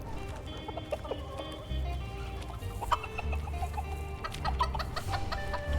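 Chickens cluck repeatedly in a Diablo-style video game, several short calls scattered over a steady low game hum and ambient music.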